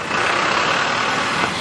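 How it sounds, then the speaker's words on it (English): Steady traffic on a street in Japan, cars and trucks rolling past as a continuous broadband engine and tyre rumble, fairly loud and close, with no talking. "There are a lot of cars."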